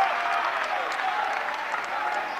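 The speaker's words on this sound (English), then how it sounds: "Parker gets a nice hand from the crowd." Steady, dense applause from a basketball arena crowd greets a player leaving the game, a continuous wash of clapping at even loudness with a faint voice murmuring beneath.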